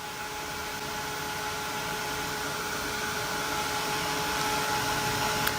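A craft heat tool blowing hot air to dry ink, a loud steady whirring hiss with a constant motor hum throughout, no speech.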